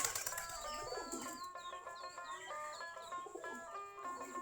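Several domestic Giribaz pigeons coo in overlapping, repeated throaty calls while feeding, close by and steady, with no talking.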